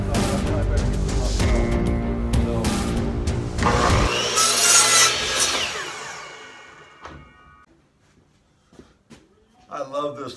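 An angle grinder fitted with a small blade cuts through wood at close range, a loud harsh whine and rasp that later winds down into quiet handling noises, with someone speaking.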